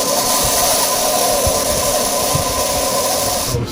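An Aurora slot car chassis runs on a transformer with a dense, hissing, high-pitched motor whine and faint squeal, steady and close, cutting off at the end.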